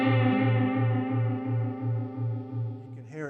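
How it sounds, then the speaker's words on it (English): An electric guitar chord rings through a Boss CE-2W vibrato pedal set to high depth and low rate, its sustained tone pulsing in a slow, even wobble of about three cycles per second before fading out. "if we increase the depth even further and bring the rate low"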